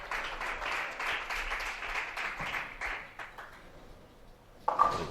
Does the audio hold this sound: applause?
yes